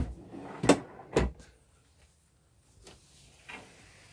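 An under-bed storage lid in a 2017 Solitude 377MBS fifth-wheel RV is lifted with two close wooden knocks and thumps, followed by quieter creaks and a soft bump.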